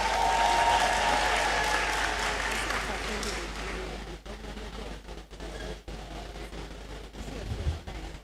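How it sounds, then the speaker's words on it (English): A graduation congregation crowd in a great hall gives loud sustained applause that gradually thins and fades, leaving scattered claps and faint room noise toward the end. "A bigger round of applause for you all."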